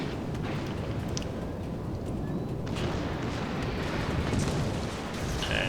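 Torpedoes fired from the destroyer Akatsuki strike the battleship Alabama in World of Warships, producing heavy, sustained rumbling explosions with repeated booming bursts throughout.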